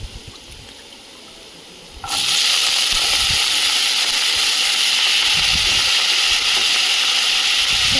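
Potatoes tipped into onions frying in a pan burst into a loud, steady sizzle about two seconds in. The hiss holds strong and even for the rest of the time, with no talking over it.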